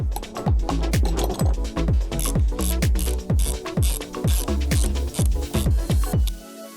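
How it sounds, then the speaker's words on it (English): Small screws are driven back into a Saturn Sky steering wheel with a rapid, regular ratcheting click, about two clicks per second, close and clear before it stops. "now I just need to put these little screws back in"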